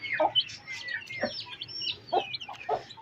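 Chicks and hens cluck and peep in short scattered calls while pecking at wet feed, close by and moderately loud, with no talk.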